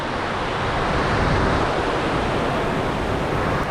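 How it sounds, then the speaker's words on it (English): Storm-swollen water rushes steadily past a fishing spot, a dense, continuous roar close to the microphone with no pauses, sounding much like surf or a small waterfall. "I'm gonna fish this rushing water here."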